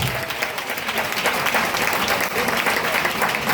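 A congregation applauds at a Wednesday prayer assembly of the Emmaüs church, with steady, dense clapping filling the room throughout, close and loud, with no break.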